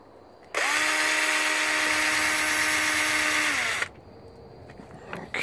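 A power drill whines steadily for about three seconds while it backs out the headlight bolts on a Honda Hawk 250 motorcycle, then cuts off abruptly, leaving faint background noise.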